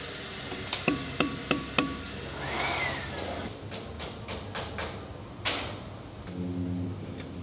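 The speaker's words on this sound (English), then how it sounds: "Should have a proper metal hammer for this, but this one's just here." Repeated hammer blows on the steel drive sprockets of a Wespe self-propelled gun, struck with a non-metal hammer in a workshop: four sharp close knocks early on, then further scattered thuds and scraping amid shuffling.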